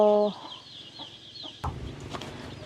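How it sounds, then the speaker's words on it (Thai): Chickens clucking while pecking at rice, with short soft clucks scattered over a quiet background, one call opening the clip and a sharp clatter midway. "ไก่เขากินเข่า"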